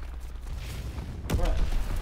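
Gunfire and a sudden boom from the Call of Duty: WWII video game, a low rumbling battle bed with a sharp blast midway, followed by continued rumble.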